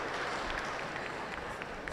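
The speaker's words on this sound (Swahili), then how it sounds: "Sasa sijui makofi ni aendelee au okay." Steady applause from a conference audience at a national clean cooking energy forum, a dense even patter of many hands clapping throughout at moderate level.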